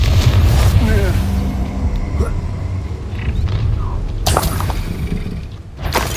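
Confringo fire spell blasting during combat in the Hogwarts Legacy video game, a loud rumbling boom over a dense battle mix with sharp bursts near the end, a voice talking over it.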